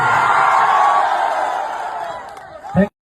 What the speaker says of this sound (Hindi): मैं चाहता हूं उस भाई के लिए जोरदार हल्ला करके ताली से बजाइए